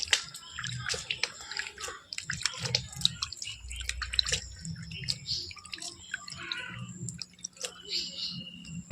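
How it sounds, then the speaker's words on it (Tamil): Light splashes and drips of water sprinkled in short bursts onto moringa seed cups, close by, with a voice talking intermittently underneath. "இதை கொஞ்சம் தண்ணி தெளிச்சிக்கலாம்"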